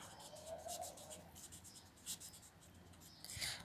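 Pen or marker writing by hand during a maths lesson on linear equations, a faint scratchy stroking in short bursts at low level with soft room noise.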